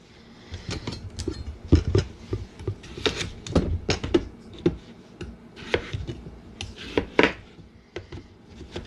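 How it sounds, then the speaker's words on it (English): Potatoes are roughly chopped with a knife on a board, giving a run of close, uneven thuds and scraping cuts of moderate loudness with no talk. "Get some of these taters chopped up."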